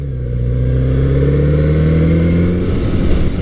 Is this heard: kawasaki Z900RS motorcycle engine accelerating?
yes